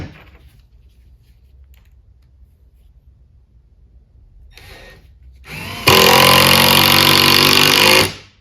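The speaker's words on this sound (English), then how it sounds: "Drill a pilot hole, drive a screw" A power drill is briefly tried and then drills a pilot hole for 3-inch T25 screws, a loud, steady, high whine lasting about two seconds close by.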